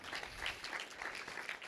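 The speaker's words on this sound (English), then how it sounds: "clap for him again if you want to" An audience at a school board meeting claps steadily, a dense patter of many hands heard from mid-room distance without pause.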